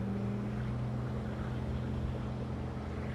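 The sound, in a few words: Centurion Ri257 wake surf boat cruising on water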